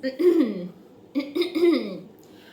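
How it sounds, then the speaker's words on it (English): Two bursts of harsh, guttural throat clearing, close and fairly loud, separated by a short pause, with no speech around them. "I gotta clear my throat for this one."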